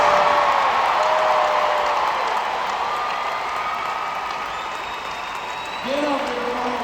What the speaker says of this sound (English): one more round of applause for Ellie De La Cruz